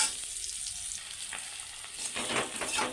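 Pieces of kakrol, spiny gourd, fry in a pan with a continuous close sizzle, broken near the end by a few scraping stirs through the hot oil.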